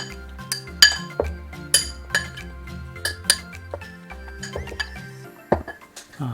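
A utensil stirs cornflour into bacon and potato in a bowl, giving a run of sharp metallic clinks against the dish at an uneven, irregular pace, close up and moderately loud, with no voices.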